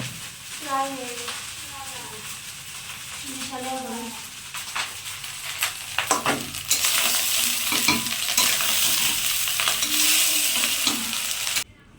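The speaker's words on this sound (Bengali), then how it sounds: "কতদূর হইলো ভাত ভাজা?" Rice frying and being stirred in a pan, a steady broadband sizzle with scraping strokes that swells louder in the second half, while voices talk over the first few seconds.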